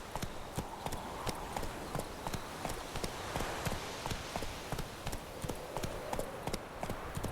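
Roach the horse galloping in The Witcher 3, hooves drumming in a fast, steady clip-clop rhythm over a continuous bed of ambient noise, fairly close and even throughout.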